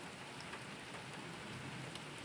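Heavy rain falls steadily during a big thunderstorm overhead, a dense continuous hiss of drops striking surfaces at close range with no clear thunderclap in this short stretch.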